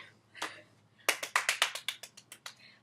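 A single person clapping hands alone, about a dozen sharp, close claps in quick succession after one lone earlier clap, fading slightly toward the end.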